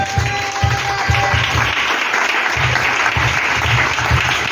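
Congregation at a prayer service bursts into sustained applause, dense continuous clapping with rhythmic low thumps underneath, loud and close throughout.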